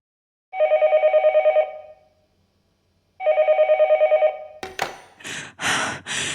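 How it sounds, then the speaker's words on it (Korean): A wall-mounted telephone bell rings twice in trilling bursts separated by a pause, followed by a clunk and some rustling noises close by. "벽에 달린 전화기가 울렸다"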